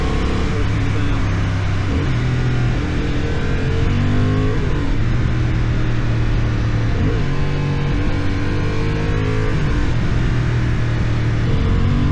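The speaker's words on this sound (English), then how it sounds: "It makes an extremely good note on throttle and when just cruising." A 2025 Honda CB750 Hornet motorcycle engine pulls steadily on throttle while riding, a loud continuous note with gradual pitch swells and heavy wind noise around it.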